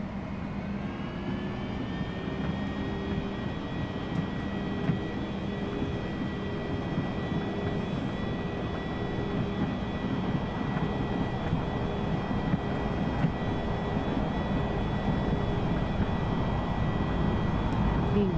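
Embraer E175 jet engines spool up to takeoff thrust in a flight simulator, a loud steady roar with rising whine tones that hold constant. The sound is continuous and close.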